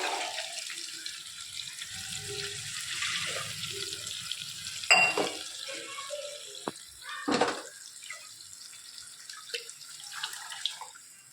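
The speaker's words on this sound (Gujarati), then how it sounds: "હજી અંદર થોડું પાણી નાખી અને સરસ આપણે એને ઉકળવા દઈએ" Water pours and splashes into a cooking pan holding boiled peas in a steady stream, with a couple of sharper clinks and splashes near the end.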